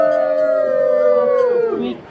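Several people howl together at a fur convention, imitating a dog or wolf howl, with long sliding harmonic cries held close and loud before trailing off at the end.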